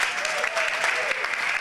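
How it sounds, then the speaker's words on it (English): A competition audience gives brisk, dense applause after the pitch presentations, steady clapping from the crowd with a voice faintly over it. "Ladies and gentlemen, clap it up for everyone that presented today."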